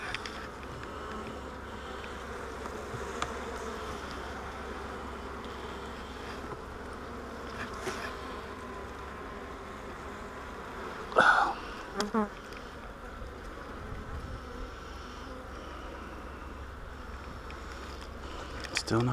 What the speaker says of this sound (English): This one's got a lot more bees in it than that other one did too.